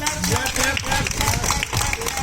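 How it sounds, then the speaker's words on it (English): A group of people claps together in a busy, echoing space, steady applause mixed with cheering and overlapping voices throughout. "Clap for everyone. Clap."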